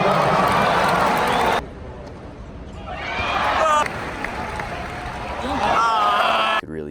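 Stadium crowd at a 2019 Miami Open tennis match breaks into loud bursts of cheering and whooping, with quieter lulls between, heard from a broadcast perspective.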